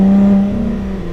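A Lotus Exige 380 Cup's stock 3.5-litre Toyota V6 revs nearby in a loud, deep, steady drone, dipping slightly as the revs settle.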